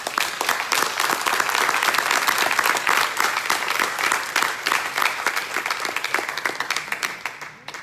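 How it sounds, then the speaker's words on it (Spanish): A church congregation claps together in sustained, dense applause that stays loud throughout, thinning slightly into scattered claps near the end. "Le puede dar palmas al Señor."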